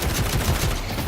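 Rapid gunfire from Tesla bullets in the video game Deadlock, a dense, continuous burst of shots heard close and loud throughout.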